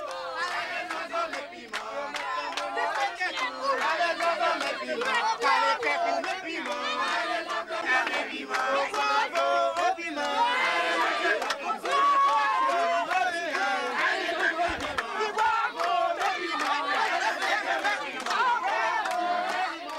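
Frenzied crowd at a voodoo ceremony for Maman Brigitte, spirit of the dead: many voices shouting and chanting together in a dense, unbroken roar, with excited cries rising above the throng throughout.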